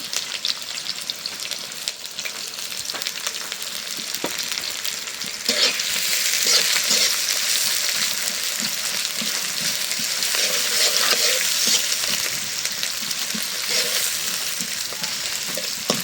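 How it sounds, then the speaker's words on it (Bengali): Chickpeas fry with onion and green chilli in oil, giving a loud, dense sizzle that swells partway through and keeps going, with frequent scraping stirs in the pan. "এখন হলো ছোলা বুটগুলি ভুনা করবো। দিয়ে দিলাম পেঁয়াজ, কাঁচামরিচ"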